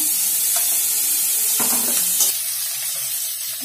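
Cumin, chili and garlic paste fries with mushrooms in a pan, a loud steady sizzle with a few stirring scrapes and no voices.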